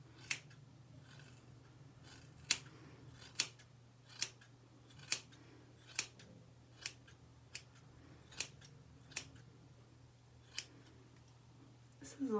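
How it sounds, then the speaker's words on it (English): Crisp, close snips of scissors point cutting curly hair, about a dozen sharp clicks spaced irregularly over a low steady hum, with no talking. "And then I can just go in and point cut."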